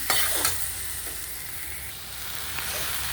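Tamarind and other ingredients frying in a pan, a steady close sizzle with continuous stirring and a couple of brief scraping knocks near the start, no voices.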